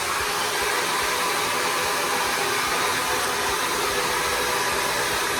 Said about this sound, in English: We're gonna start with blow drying in the back of the head